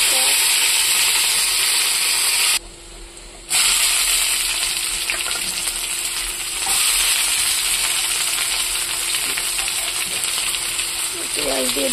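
Bay leaf and ginger-garlic paste sizzle steadily in hot oil, a loud, continuous hiss that cuts out for about a second midway, then resumes with faint stirring clinks and no speech.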